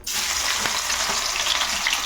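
Tempering for a Telugu home-cooked dal with dried mango and ridge gourd crackles loudly in hot oil. A sudden steady sizzle begins and holds continuously, close and unbroken, with no talking.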